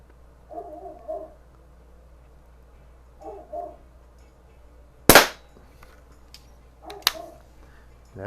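Sharp cracks from a Daisy 922 .22 caliber multi-pump pellet rifle: a loud, near shot with a second, fainter crack about two seconds later, amid soft background noises.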